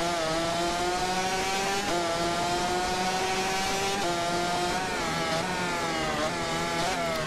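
Honda motorcycle engine in the video game MotoGP 15, a steady high-pitched whine holding near constant speed with small shifts in pitch, loud and continuous throughout with no voices.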